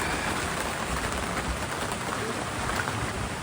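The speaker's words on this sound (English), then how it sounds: "I got a rainstorm squall coming through" A rainstorm squall passes over a boat cabin, a dense steady hiss of rain that fills the whole moment without a break.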